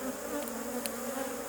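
Honey bees buzz in an opened hive, a close, steady droning hum with a few brief louder passes, continuous over a quiet background.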